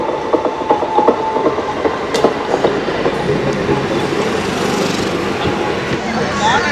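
The Sealdah–Ranaghat AC local train runs along with a loud rumble and rhythmic clattering of wheels, heard from on board, with scattered mechanical clicks and a voice talking over it.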